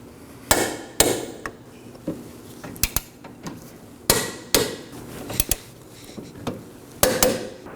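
Torquing bolts on the rear axle of a 2018-2024 Chevrolet Equinox, a series of sharp metallic clicks and clacks from a wrench, spaced irregularly in small clusters, close and fairly loud against a quiet workshop background.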